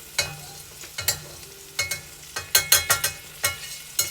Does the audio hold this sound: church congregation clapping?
no